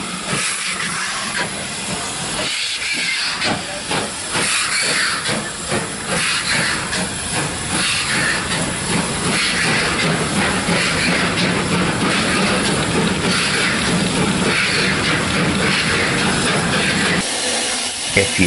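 A preserved steam locomotive lets out a loud, continuous hiss of steam for the whole stretch while the train runs, with a faint rumble and rail noise underneath.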